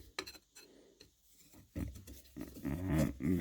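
A metal file rasps against a knife handle being shaped, in short close strokes that start sparse and build into heavier, denser scraping.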